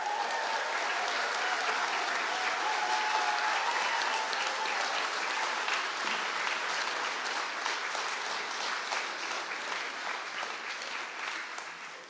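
A crowded hall applauds graduates at a university conferring ceremony in Mayo. The clapping is loud and continuous for about twelve seconds, a thick even wash of many hands that slowly tapers toward the end.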